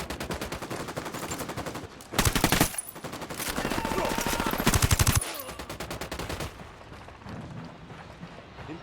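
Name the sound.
gunfire in video game Ghost Recon Wildlands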